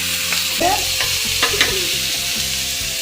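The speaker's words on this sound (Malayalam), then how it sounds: "ഇഞ്ചി പച്ചമുളക് ചതച്ചതിട്ടു. ഇങ്ങനെ ഇളക്കി കൊടുക്കണം." Crushed ginger and green chilli stirred in a hot pan, a steady sizzle with scraping strokes of a spoon recurring every half second or so, close and fairly loud, no voices.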